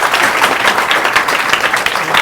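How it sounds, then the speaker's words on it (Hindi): An audience applauds to welcome selected Agniveer army recruitment candidates at a coaching class event in Sultanpur, with dense, sustained clapping from a crowd filling the room at full volume. "इनके लिए भी ताली बजाइएगा"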